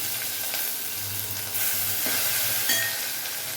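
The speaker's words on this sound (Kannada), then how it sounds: "ಈರುಳ್ಳಿ ಹಾಕ್ತಾ ಇದ್ದೀನಿ." Onions sizzle in hot oil with cumin and curry leaves in a pan, a steady close crackling hiss that holds evenly throughout with a few small pops.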